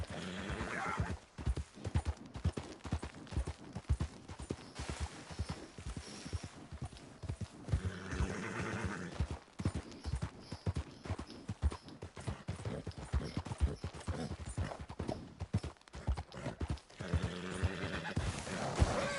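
Horse hooves clop steadily up a slope in Red Dead Redemption 2, with neighs and whinnies breaking through a busy, continuous game soundscape over about nineteen seconds.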